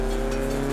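A 1993 Renault Clio Williams engine drones steadily in Forza Horizon 4, a constant mid-revving hum with no speech.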